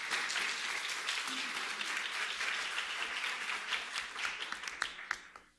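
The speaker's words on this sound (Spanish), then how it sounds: "Por favor, un aplauso para el doctor Contreras." Steady audience applause for Dr. Contreras at a quarterly economics meeting, dense even clapping sustained for several seconds before tapering to a few final claps.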